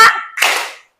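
A short burst of children clapping hands together in a classroom, a brief ragged clap that quickly fades out.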